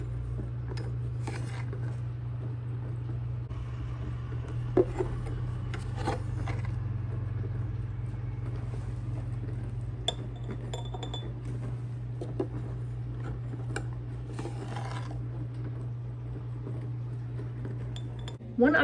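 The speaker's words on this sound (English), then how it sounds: "now what I'm going to do is get a spoon and spoon it into some little jars quickly" A spoon scoops dried cherry tomato powder into small glass jars, making light clinks and scrapes against the glass at intervals over a steady low hum.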